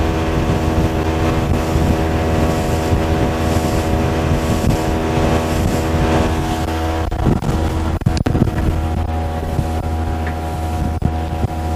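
A Mercury 60 hp outboard motor on a Starcraft boat runs steadily at about 4,800 RPM, a loud continuous drone with strong harmonic whine, some wind buffeting and a couple of sharp knocks near the end, no talking.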